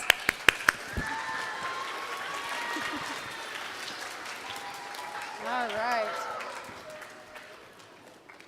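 Children and adults at a kids' camp gathering break into applause for a young participant. A few sharp claps open a sustained, moderate round of clapping, with voices talking and calling out over it.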